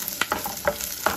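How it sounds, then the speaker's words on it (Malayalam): Sliced onions tumble into a pan of fried ginger and garlic, sizzling close up with a few scraping stirs of a spoon, a short burst of frying activity without any voices. "ഇഞ്ചി വെളുത്തുള്ളി മൂപ്പിച്ചതിന് ശേഷം നമ്മൾ സവോള ഇടുന്നു."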